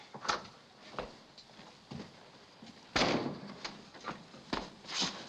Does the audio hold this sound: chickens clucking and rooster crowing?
no